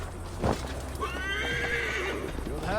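A horse in the video game Assassin's Creed Valhalla lets out a long, loud whinny over a steady clip-clop of hooves, with a faint voice at the end.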